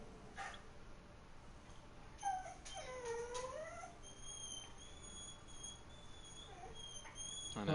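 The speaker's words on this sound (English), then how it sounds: "Those dogs don't just cry." Several dogs whine and cry in high, wavering whimpers, mostly in the first half, faint and at a distance over steady background noise, with no talk.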